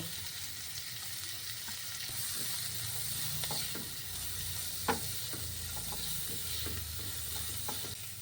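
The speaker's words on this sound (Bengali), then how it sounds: "এবার আমি একটা ছোট পেঁয়াজের কুচি, ছোট ছোট করে কুচি করা, সেটা এতে দিয়ে দিচ্ছি। এটা হালকা করে ভেজে নেব।" Finely chopped onions, with garlic, fry lightly in a pan for a dry masala prawn dish: a steady low sizzle fills the background, broken by soft scraping and clicking taps as the pieces are stirred.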